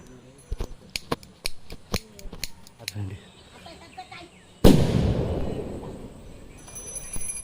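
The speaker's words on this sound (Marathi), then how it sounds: "आता फटाके लावतोय" A rapid string of sharp firecracker cracks at a Gauri festival arrival in Konkan, then a single big burst followed by a crackling, fizzing tail that fades slowly.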